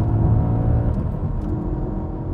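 Deep, rumbling naturally aspirated V8 engine note from an Audi RS4, loud and steady as the car drives, with a low throaty drone throughout and no voices.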